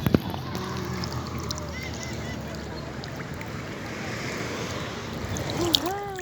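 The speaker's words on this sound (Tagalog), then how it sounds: "Ay, dagat! Dagat! Dagat!" Sea waves washing onto a seashore as a broad, continuous rush of surf, with a few faint honk-like calls and sharp knocks near the start and end.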